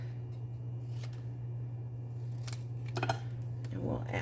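Scissors trim a small stamped paper sentiment with a few crisp snips spread over a few seconds, quiet and close over a steady low hum, ending with soft paper rustling.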